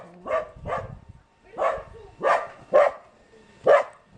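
A dog barks six times in an uneven series of loud, close, sharp barks, with brief pauses between them, at a frontline town in Kherson region during a police evacuation of civilians.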